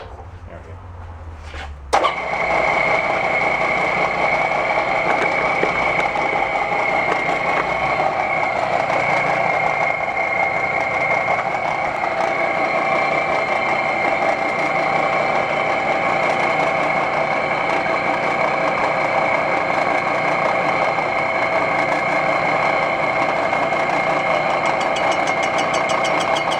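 A Craftsman lawn tractor engine catches with a sharp start and settles into a steady, rough idle that runs unbroken and fairly loud, with a knocking buzz.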